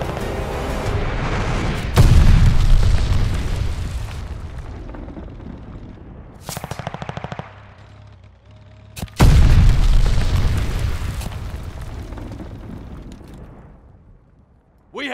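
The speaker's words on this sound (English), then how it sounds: "Enemy glide bomb incoming." Glide bomb blasts and gunfire in the video game Call of Duty: Vanguard multiplayer, with two heavy booming explosions that roll off into rumbling decay and a short burst of rapid gunfire between them, loud and close.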